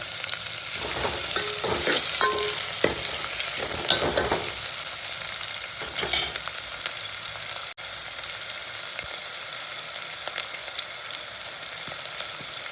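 Onions frying in a pan until browned, for a chicken dish, with a loud, continuous sizzle close up and intermittent scraping strokes of a spoon stirring through them.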